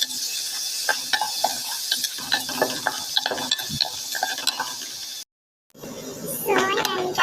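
Onion, garlic and chili sauté in a pan while being stirred, rhythmic scraping knocks of the utensil over a steady sizzle, close up, broken by a brief silence and then a voice in the background.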